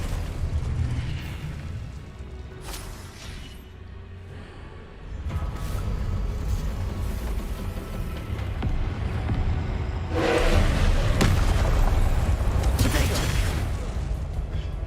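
Fiery Confringo spell blasts in the Hogwarts Legacy video game land as heavy booming bursts, two big explosions standing out over constant rumbling combat noise.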